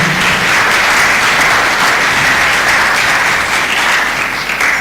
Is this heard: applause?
yes